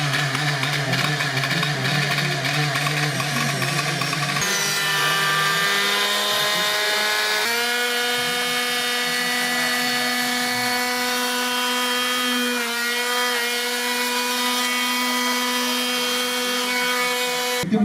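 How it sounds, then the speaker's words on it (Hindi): NDRF rescue team drilling at a rescue site: a continuous loud machine drone with steady harmonic whine that shifts pitch several times, running throughout with no voices. "एनडीआरएफ की टीम द्वारा इसमें ड्रिलिंग का कार्रवाई स्टार्ट की गई है"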